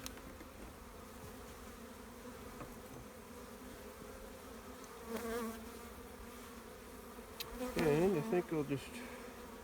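Honey bees buzz steadily around an opened hive during a spring inspection, a close, continuous drone that swells louder near the end as the bees scatter, with someone speaking briefly.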